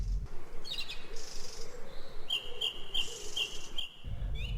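Birds calling at a lake shore landing site on the Ssese Islands, with repeated high whistled chirps and tweets standing out clearly over a low steady background, no talk.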